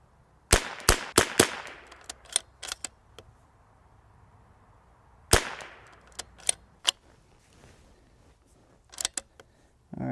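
Rimfire rifle shots with cheap ammunition: sharp cracking reports fired in quick clusters, a rapid string at the start, another group in the middle and a few more near the end, close and crisp.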